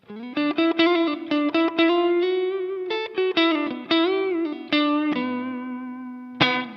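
An electric guitar through a Fender Hammertone Reverb pedal on its hall setting plays a run of plucked notes and chords, each ringing out into a spacious, lingering reverb tail, with no voices.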